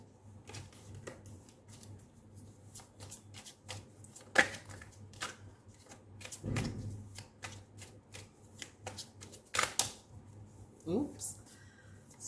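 A Greer tarot deck is shuffled and handled at close range, irregular soft riffles, slaps and taps scattered with pauses between them, quiet overall.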